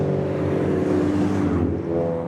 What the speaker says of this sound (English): From a distance, this looks and sounds like a proper race car.